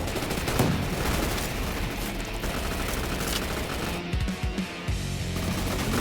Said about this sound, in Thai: สมมติคนกดยิงกดคลิกหนึ่งทีอ่ะ มันไม่ออกกระสุนแค่อันเดียว มันออกสองอันน่ะรัวๆเลยอ่ะ